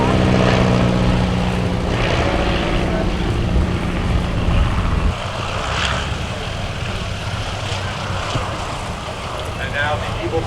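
Loud vintage propeller plane engine drone that drops in pitch and volume partway through as it lands, with a broad wind-like roar behind it.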